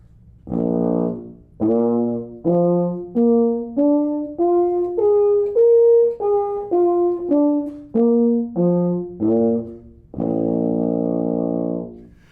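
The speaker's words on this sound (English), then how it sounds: "play for you a demonstration of the overtone series with no valves" A euphonium plays the overtone series without valves, a slow, clean sequence of separate notes climbing step by step to a high peak, then descending, ending on a long sustained low tone.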